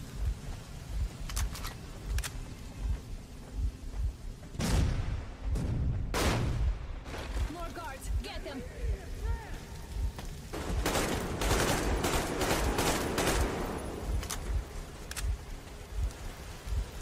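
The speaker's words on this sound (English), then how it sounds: "Explosions." Explosions and gunfire burst through a Metro Exodus game scene, loud sharp blasts followed by a dense rattling barrage, with quieter gaps between.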